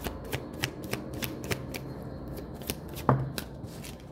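Tarot cards being shuffled and drawn, a run of crisp, evenly spaced riffling taps close by, ending in one sharper snap as a card is pulled, with no talking.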